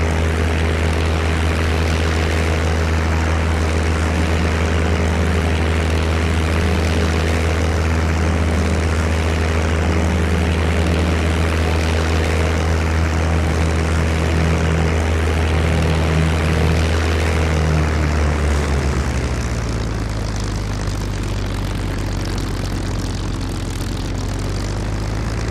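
Propeller engine of a P-51 Mustang fighter in the IL-2 Sturmovik combat flight sim drones loudly and steadily, then its pitch and tone drop abruptly near the end as the engine note changes.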